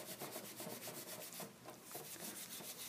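Steady rhythmic scrubbing of a rusty tool after soaking in Coca-Cola, quick back-and-forth strokes at an even pace with a brief pause midway, fairly faint and with no talking.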